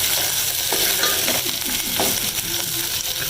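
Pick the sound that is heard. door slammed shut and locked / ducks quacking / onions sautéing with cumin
onions sautéing with cumin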